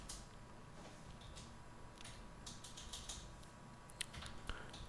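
Quiet, irregular tapping on a computer keyboard, keys struck in small clusters with pauses between them. No voices are heard.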